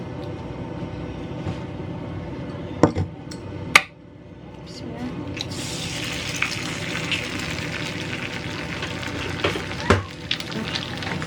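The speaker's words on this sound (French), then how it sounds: "Je vais y faire frire un œuf." An egg fries in hot oil in a reheated pan, a steady sizzle that rises and brightens after a couple of sharp clinks. People talk under the frying.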